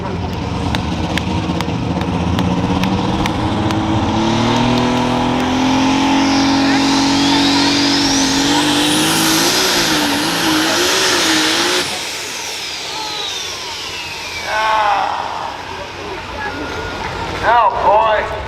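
A light super stock pulling tractor roars at high revs down the track, its engine note climbing and surging loud and close, then dropping away, with a crowd announcer talking over the top throughout.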